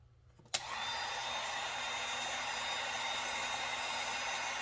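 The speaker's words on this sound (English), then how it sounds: "So I'll turn the heat gun on and I'll show you." A heat gun switches on with a sharp click and settles into a steady, loud blowing whoosh with a faint whine, used for powder coating crappie jig heads; no talking.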